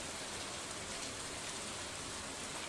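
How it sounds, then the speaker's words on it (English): Steady, dense rain falls throughout in Stardew Valley, a continuous even hiss with no breaks and no voices. "It's raining."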